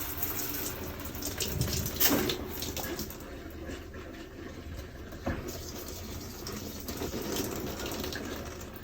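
Faint antifreeze runs from a travel trailer's shower faucet, trickling and splashing steadily in a small enclosed space, with occasional clunks, no voices.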